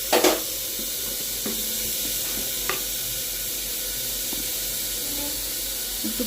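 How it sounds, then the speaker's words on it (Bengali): Red lentils and papaya sizzle steadily in a hot pan, a constant close frying hiss broken by a few scraping stirs and clinks of a utensil, with some quiet speech. "মুসুর ডাল দিয়ে দিলাম, পেঁপে, এবার নেড়ে ভালো করে নেড়ে"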